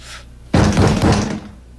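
Police pounding on a door, a short, loud burst of heavy thumping blows close by that starts abruptly after a brief quiet moment and lasts just under a second before fading.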